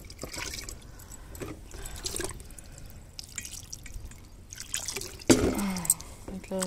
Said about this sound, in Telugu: తర్వాత కొంచెం నీళ్ళు వేసేసి